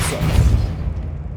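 The Depulso spell is cast in Hogwarts Legacy: a single loud, booming blast that rolls into a fading, rumbling decay, with no voices.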